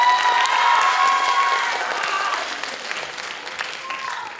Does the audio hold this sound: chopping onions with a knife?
no